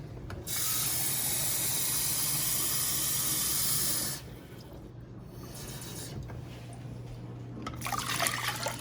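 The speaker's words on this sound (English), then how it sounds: "So I'll measure 2 cups of water." Water pours steadily into a pot of brown rice on a stovetop, a loud continuous splashing stream lasting about four seconds, then softer trickles and faint handling noises.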